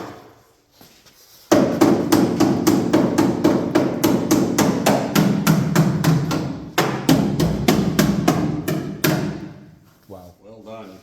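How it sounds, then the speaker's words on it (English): A hammer pounds a 1966 Chevrolet Impala SS body panel in a fast, steady run of sharp metallic blows, close and loud, with a short pause midway and faint talk at the end. "Where's my hammer?"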